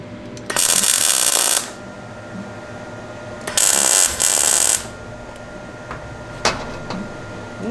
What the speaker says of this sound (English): so let's just give it some tacks and then we'll weld along the joint here